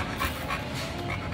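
A dog pants steadily at a veterinary clinic, quick breaths repeating close by with no voices over them.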